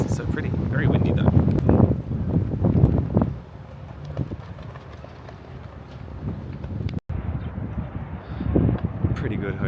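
Strong wind gusts buffet the microphone on a hotel terrace in Banff, a low rumbling roar that swells and drops, with people talking over it.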